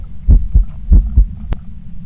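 A deep, thumping heartbeat effect from the horror video game Phasmophobia pulses in paired beats over a low droning hum, loud and close, with a brief sharp click near the end.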